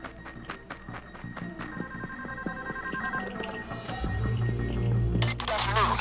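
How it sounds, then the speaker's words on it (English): A telephone rings in repeated electronic bursts inside the video game Payday 2 during a bank heist, moderately loud over in-game ambience, giving way to louder game noise near the end. "Guys, answer the phone and pass me through."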